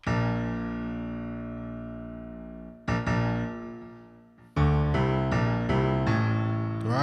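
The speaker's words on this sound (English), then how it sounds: "the bass piano sounds like this." Bass piano in a hip-hop beat plays sustained low chords that ring and slowly fade, then a quick run of punchy low notes, clear and upfront with no talk.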